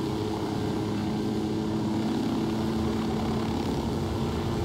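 A steady, droning rotor and engine hum runs continuously throughout, loud and unchanging, like a helicopter hovering nearby in Tom Clancy's Ghost Recon Wildlands.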